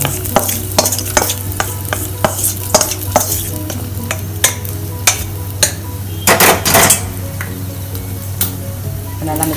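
Hot roasted tempering poured over asafoetida in a rava idli batter mix gives a sizzle with repeated sharp clinks of a spoon stirring in a vessel, close and steady with no talk.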